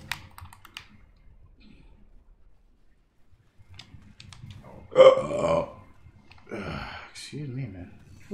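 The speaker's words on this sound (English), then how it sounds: "That was a good burp right there." A man playing Path of Exile on Xbox One lets out a loud, voiced burp midway, preceded by faint keyboard-like clicking and followed by lower-level voice sounds.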